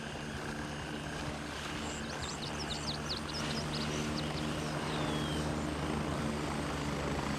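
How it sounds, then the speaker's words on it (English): Helicopters fly in the military shooter game Gray Zone Warfare, a steady distant rotor drone that holds throughout, with faint chirping birdsong above it and no talk. "I do hear a bunch of helicopters."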